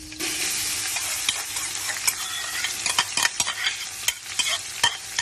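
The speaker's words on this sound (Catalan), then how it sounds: "Sofregirem bé aquesta ceba i aquest all." Figueres onion and garlic fry in a casserole, a bright continuous sizzle broken by frequent scraping and stirring clicks from a spoon against the pot.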